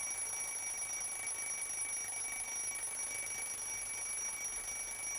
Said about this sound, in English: We can hear the sound the bell makes all the way around the clock.